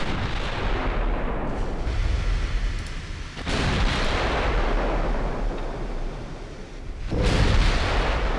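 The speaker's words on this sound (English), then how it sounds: "Get all the guns firing if we can." Warship guns fire in a steady roar of booming salvos inside a naval battle game, dense rumbling explosions with no gaps and brief surges at intervals.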